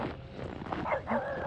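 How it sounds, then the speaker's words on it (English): A dog barks outdoors at dawn, a few short, faint yips and barks at a distance over soft background noise. "There goes my dog."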